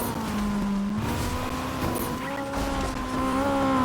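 A Fortnite car performing a wheelie, its engine holding a steady, sustained whine with slight pitch shifts and some tire noise, loud and continuous throughout without any talk.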